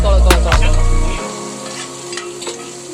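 Chili sizzles and crackles loudly as it is stir-fried in hot oil inside an RV, with a spatula scraping the pan. The frying is strong for about a second, then settles into a quieter, steady hiss.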